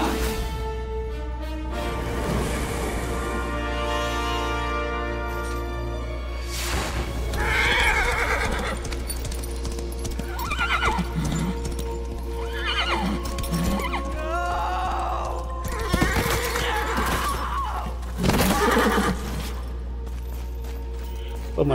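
A horse in the video game Darksiders III neighs and whinnies repeatedly amid loud game sound effects and music, with several distinct high whinnies rising clearly over the busy background.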